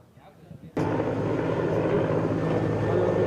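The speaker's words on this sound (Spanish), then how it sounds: "el helicóptero M1 del ejército trajo a los dos militares" An army helicopter in Ecuador bursts in suddenly with a loud, steady roar of rotor and engine that fills the rest of the moment after a quiet start.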